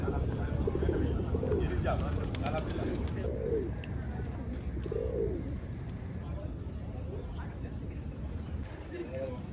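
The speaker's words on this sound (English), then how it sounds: "Yes, they're all cooing." Pigeons coo repeatedly in a small Lisbon garden, soft rounded calls recurring every second or two amid light outdoor ambience, with someone speaking over them.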